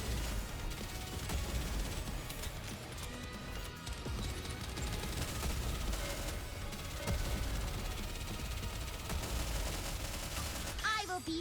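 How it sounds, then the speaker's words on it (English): Dense, continuous gunfire and explosive impacts in the video game Nikke, loud rapid bursts layered with crashes and mechanical clatter throughout, with faint voices mixed in. "Commence firing."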